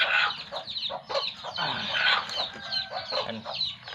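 Chickens and chicks clucking inside a coop, a busy overlapping chorus of clucks and peeps at close range, steady throughout with no talking.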